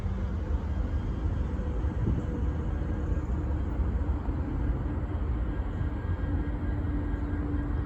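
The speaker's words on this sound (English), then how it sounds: "All right, we got a southbound train getting ready to come over the bridge." Southbound train approaching a bridge, heard as a steady low rumble with a rising roar from a heavy locomotive drawing near.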